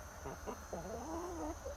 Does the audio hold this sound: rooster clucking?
yes